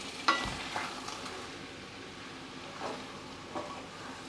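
Potatoes for a fasting-day bhaji sautéing in a pan as the lid comes off, a soft steady sizzle with a few scraping stirs near the start and end, no voices.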